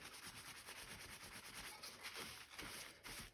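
Bicycle brakes being scrubbed clean with white vinegar: a continuous, faint, close rubbing and scraping with an irregular back-and-forth rhythm and no voices.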